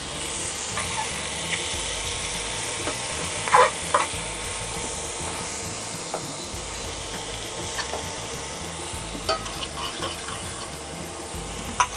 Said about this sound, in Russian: Мешаем, мешаем.